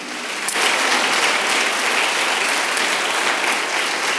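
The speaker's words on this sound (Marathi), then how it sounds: "आपण या नावाबद्दल आपण टाळ्या वाजवूया प्रभूच्या." A church congregation claps together in praise during a worship service, a dense, steady wash of many hands close by that runs unbroken throughout.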